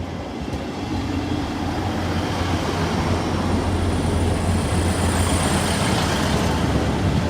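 East Midlands Railway passenger train on the Peterborough to Liverpool Lime Street service, four carriages, running past with a steady loud rumble and rail roar that holds throughout, no voices.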